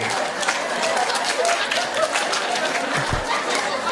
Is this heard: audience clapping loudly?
yes